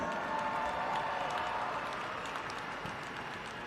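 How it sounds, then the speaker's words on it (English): Arena crowd at a Monster Jam event in Salt Lake City's Delta Center applauding, a dense, even wash of clapping from a large audience heard at a distance, sustained without a break. "let's still give him a round of applause"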